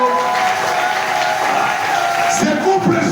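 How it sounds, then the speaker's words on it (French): A church congregation breaks into steady applause that fills the room, loud and sustained, with a few voices rising near the end. "applaudissons le Seigneur Jésus"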